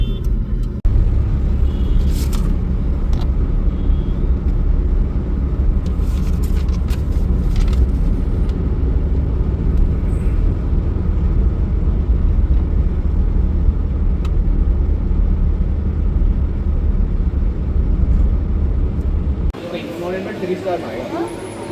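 A car rumbles in road traffic, the vehicle stuck just ahead; a loud, steady low engine and road drone runs almost throughout, with voices mixed in, then drops off sharply near the end.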